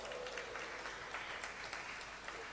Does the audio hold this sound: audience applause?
yes